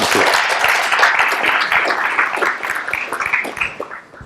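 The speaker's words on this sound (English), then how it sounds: "please greet our speaker and our donors, and a great hand of applause" Audience applause for a lecture speaker, a loud dense run of many hands clapping that holds steady, then thins and tapers toward the end.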